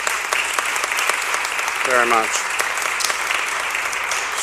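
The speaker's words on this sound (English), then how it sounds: "big round of applause" A room of attendees applauds at a city hall bill-signing for a measure on women on corporate boards. The clapping is full and continuous, and a voice briefly speaks over it partway through.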